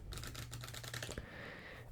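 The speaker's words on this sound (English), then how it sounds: "we're gonna shuffle these piles face down into face up" Playing cards being shuffled face down into face up, a brief quiet rapid riffle of crisp ticking that stops abruptly, close up and soft.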